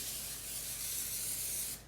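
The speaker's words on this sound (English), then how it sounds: "Give it a spray" Cooking spray misted into a brownie pan in a home kitchen, one continuous hissing burst lasting under two seconds before it cuts off abruptly.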